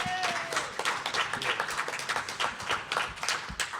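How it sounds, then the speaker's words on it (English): An audience at a live convention wrestling show claps and applauds in a dense burst that is steady and moderately loud, with no speech over it. "give him a round of applause"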